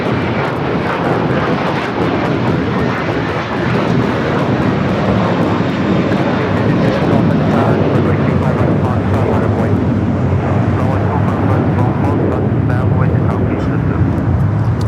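A cargo jumbo jet roars down runway 25 right at Los Angeles airport for takeoff, a loud, sustained engine blast that stays powerful throughout while a voice talks over it.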